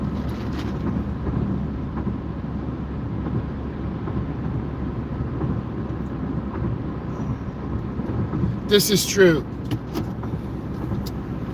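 A steady, low road rumble and engine drone fills the cabin of a 2025 Chevrolet Equinox driving at night on the I-94 highway near Detroit, continuous throughout, with a brief voice speaking near the end.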